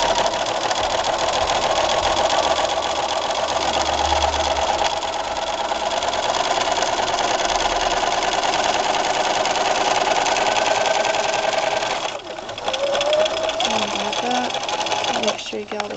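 A sewing machine runs steadily up close while back-stitching a seam on a miniature-scale elastic-waisted skirt, its whir continuous and loud before briefly stopping and restarting near the end.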